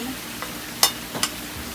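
Egg stirred in a pan while bitter melon stir-fries, a low sizzle under a few brief scraping strokes of the utensil, close and fairly quiet.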